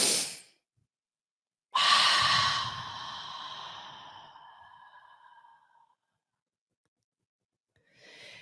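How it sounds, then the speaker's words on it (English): A long, deep breath drawn in during a guided breathing exercise, beginning abruptly and fading slowly over several seconds, close and breathy, with a brief breath sound at the start and another at the end. "deep breath in together. Inhale."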